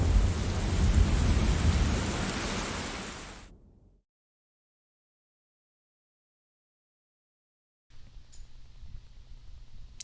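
A thunderstorm scene in the video game Xenosaga Episode II brings loud, dense rain with rumbling thunder. It fades out and drops to silence midway, then faint ambient sound returns near the end.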